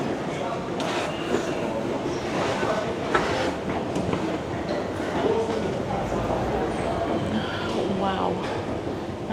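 Rumbling train noise with rattling and clattering fills a busy station in Rome, while people talk nearby throughout.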